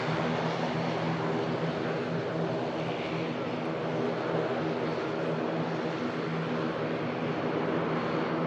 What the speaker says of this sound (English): Jet2 73 just touching down.